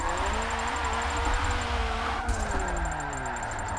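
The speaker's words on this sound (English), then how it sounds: "I do love the sound of this four-cylinder turbo." A four-cylinder turbo hot hatch engine during a drift, humming with gliding pitch that rises and falls as revs change, heard from inside the car.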